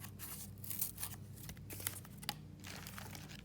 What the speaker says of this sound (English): I'm gonna go back now with my scissors, and I'm just gonna make that hole slightly bigger